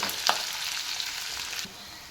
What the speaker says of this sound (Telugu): మంచిగా వేగుతుంది.